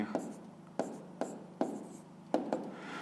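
A pen writes out a maths solution for a fifth-grade exercise in quick separate strokes, about seven sharp scratchy bursts in an uneven rhythm, close and fairly quiet against a faint room background.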